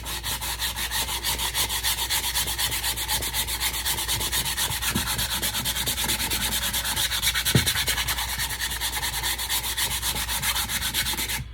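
Hand sanding on a wooden kitchen riser: steady, close scratchy back-and-forth rubbing strokes in an even rhythm, continuous throughout with no voices.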